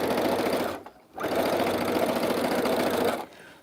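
A sewing machine stitches fabric strips for a scrappy rainbow quilt project, running in steady, close, loud bursts with a brief pause between two long runs.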